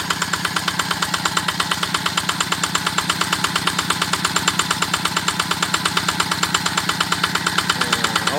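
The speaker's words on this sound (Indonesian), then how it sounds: "dengan mesin penggerak menggunakan mesin diesel Yanmar tipe atau seri TF85" A Yanmar TF85 single-cylinder diesel engine drives an Ebara 3-inch water pump. It chugs steadily with a fast, even thumping rhythm, heard close and loud throughout with no voices.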